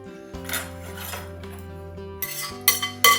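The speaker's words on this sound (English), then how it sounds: "I'm just gonna dump that into a big mixing bowl" Salad of fresh sweet corn is dumped and tossed in a big mixing bowl, with scraping and clinking of utensils against the bowl, a few sharper clatters toward the end, and no talk.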